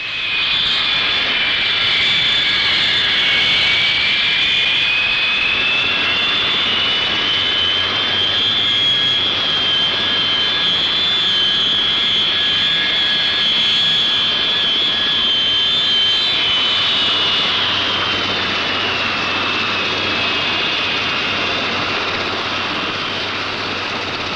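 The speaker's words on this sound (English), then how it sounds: "A Royal Navy Phantom flies in from New York, and it's a scarifying landing." A Royal Navy Phantom jet fighter lands with a loud, sustained roar and a shifting high whine, the aircraft close and powerful, easing slightly in volume toward the end.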